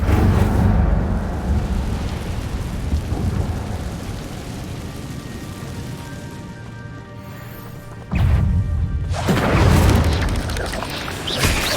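An Incendio fire spell cast in the Hogwarts Legacy video game: a loud, dense roaring blast that fills the scene, easing slightly before a sharp crashing burst erupts again near the end, with no talking.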